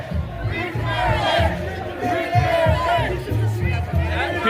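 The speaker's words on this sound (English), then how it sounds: "People are chanting "Free Tamara Lich."" Protest crowd marching through downtown Ottawa on Canada Day, chanting for Tamara Lich's release: a loud, dense mass of voices with rhythmic rises of chanting over steady crowd murmur, close and continuous.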